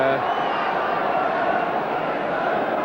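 Travelling Southampton supporters at a 1982-83 football match away at Luton, a steady, broad stadium crowd roar and cheering, loud and unbroken for a few seconds, with a commentator talking over it.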